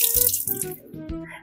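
Water runs from a kitchen sink tap in a short burst, a close splashing flow with small gurgles and clatter in the basin, heard alone without talk.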